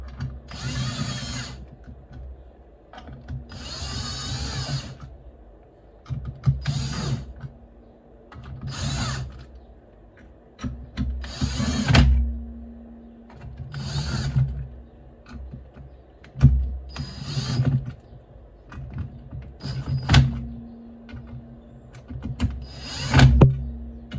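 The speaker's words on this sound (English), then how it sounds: "take the wrench and just work them down. Going in a crisscross pattern here." A wrench works down the bolts on a Deere/Comet 102C primary clutch in a crisscross pattern, giving about eight short, fairly loud mechanical whirring bursts separated by brief pauses, with no talking.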